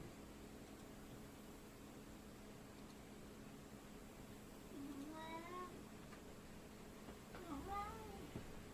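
A hungry house cat meows twice in the distance, faint against steady room hiss and a low hum.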